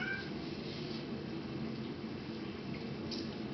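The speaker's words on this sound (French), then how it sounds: "mon chat est en train de nous raconter sa vie à côté de la caméra" A pet cat meows right next to the camera, a few close vocal calls rising over a steady background hiss, with no speech.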